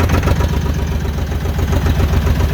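A 1998 TAFE 35DI tractor engine runs at a steady, loud idle with a low, continuous chug and no voices over it.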